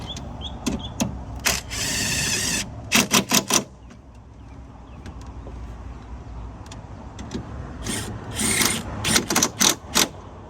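On a 2004 Chevy Tahoe under reassembly, parts are being bolted back in. Close, sharp metallic clicks and ratcheting rasps come in quick bursts, with quieter handling noises between them.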